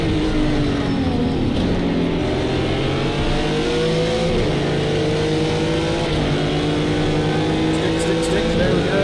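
Race car engine in a driving video game, a loud continuous roar with rising and falling pitch sweeps as it shifts through gears, with a voice talking over it.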